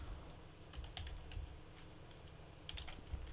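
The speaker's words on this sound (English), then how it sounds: "So in the search, type in touchpad." Laptop keyboard keys tapped in irregular bursts of light clicks while entering a search term in Windows 11, quiet and close with no talking.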